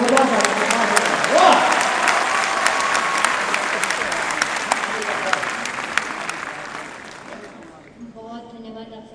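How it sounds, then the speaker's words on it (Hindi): Loud, dense audience applause at a Hindi kavi sammelan poetry gathering, sustained clapping for about eight seconds before fading out, with a voice speaking briefly over it. "एक बार तालियां बजाकर बिना भूमिका के"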